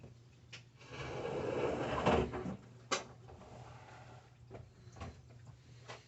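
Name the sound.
door being shut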